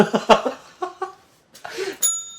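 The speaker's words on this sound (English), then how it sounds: "Anyway, ding the bell." A small bell is dinged once, a single bright ringing tone that follows brief talk and laughter.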